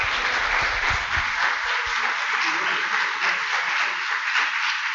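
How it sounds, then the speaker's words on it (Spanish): A conference audience gives its panelists a hearty round of applause. The clapping is close, dense and sustained, running evenly for about five seconds. "un aplauso fuerte para los 3 panelistas"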